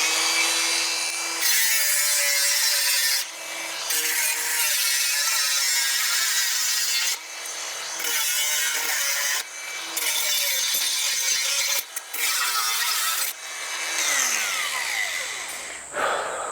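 A power saw cuts through a metal part during a Toyota FJ40 restoration, a loud continuous screeching whine in several long passes broken by short pauses, close and with no voice over it.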